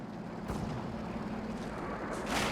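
Pathfinder artillery barrage in Company of Heroes 2, a World War II strategy game: dense, rumbling distant blasts and a continuous roar of shelling, with a couple of brighter impacts standing out.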